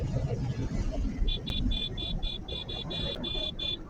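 A car speeding at over 100 km/h across the Kaugaon bridge in Dinajpur: a steady road rumble with a run of rhythmic high-pitched beeps partway through.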